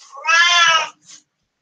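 A cat gives one clear, drawn-out meow, close and fairly loud, followed by a brief fainter chirp, then silence.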